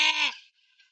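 A goat bleats once on a farm in Mindanao, a short loud nasal cry close by, then a faint second bleat trailing off into quiet.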